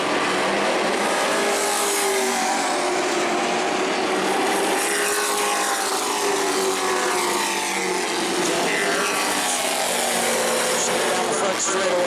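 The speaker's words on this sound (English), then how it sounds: "Straightaway, more than half a straightaway lead on Watson's 25" Pro trucks race around the New Smyrna oval, a steady loud roar of engines sweeping past with shifting pitch and dense crowd and track noise throughout; a commentator talks over the racing.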